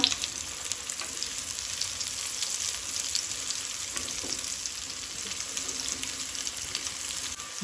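Slices of taro (madi) stir-fry in a pan for a Goan fry, giving a continuous, dense, close sizzle with faint scraping and no talking throughout.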